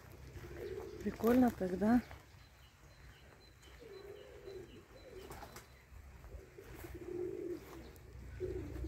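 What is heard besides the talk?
pigeons cooing in a courtyard dovecote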